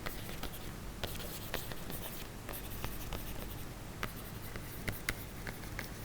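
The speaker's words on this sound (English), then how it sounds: "let me write the title" A marker or pen moving across a board as a title is written for a maths lesson, with close scratchy strokes and taps in short bursts and no voice over them.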